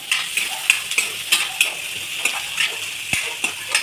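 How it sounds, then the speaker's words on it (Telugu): Green chillies sizzle in hot oil in a pan while being stirred for egg masala, a faint steady fry with regular light scrapes and taps of a spoon, no voices. "ఒక 2 పచ్చిమిరకాయలు, 2 లేదా 3 వేసేసుకొని తిప్పుకున్నామండి."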